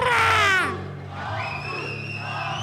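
A fight crowd at a boxing event cheers and screams loudly after a decision is announced, the roar swelling at first then easing to a steadier, lower din.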